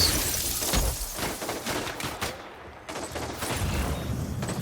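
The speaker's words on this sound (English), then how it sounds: "These shots do nothing on those guys" Repeated gunshots from a weapon in the video game Death Stranding 2, sharp bursts firing irregularly through a dense, noisy battle mix, loud and close with a brief lull midway.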